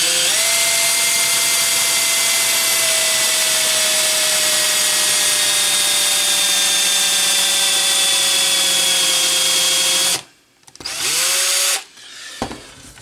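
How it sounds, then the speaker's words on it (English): A loud electric drill, with a failing motor, whines steadily at high speed for about ten seconds, then stops, restarts briefly and cuts out again. "My drill's dying."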